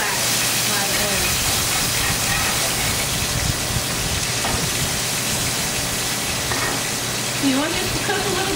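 About three cloves of chopped garlic sizzle in roughly a quarter cup of hot extra virgin olive oil in a pan, giving a steady, loud, crackling hiss throughout with a faint voice underneath.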